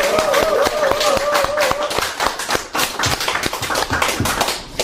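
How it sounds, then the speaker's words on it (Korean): An audience at a Korean talk show with activists from the Incheon democracy movement claps hands in a lively, uneven burst of distinct, close claps, with a voice sounding briefly over the first part. "여러분 박수 한번 보내주세요."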